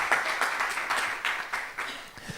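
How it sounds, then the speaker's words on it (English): Audience applause for CEO Jonas Diamond, a steady wash of many hands clapping at moderate volume throughout, with no one speaking over it. "I wish you'd offer some applause for him too"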